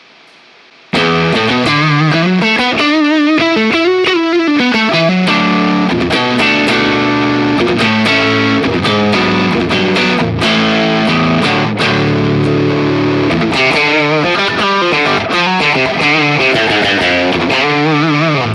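Heavily overdriven electric guitar through a Tone City distortion pedal with the drive turned up, riffing loudly, thick and saturated, with chords and quick melodic runs, no voices.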